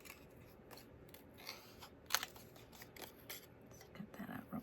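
Scissors cut a paper candle flame shape for a Stampin' Up! card, giving quiet, close snips and crisp paper rustles in an irregular rhythm, with one sharper crunch near the middle.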